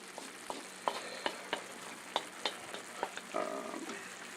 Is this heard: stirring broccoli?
yes